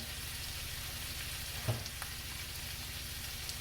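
Cabbage fries in a skillet with a soft, steady sizzle, quiet and even, with one brief clink partway through.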